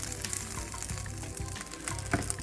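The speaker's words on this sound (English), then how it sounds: "the beef broth" Beef broth is poured into a pot for birria tacos, a steady close splashing and gurgling pour lasting a couple of seconds with no voices.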